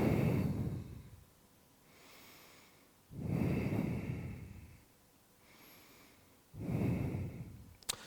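Deep, heavy breaths come between exercise sets while standing with hands on the waist, three long loud exhales spaced a few seconds apart with quiet pauses between, close to the mic and with no talking.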